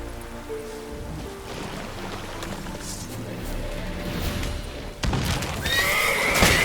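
Roach, a horse in The Witcher 3: Wild Hunt, neighs and whinnies clearly over game music, with faint hoof clip-clops and a bright burst near the end.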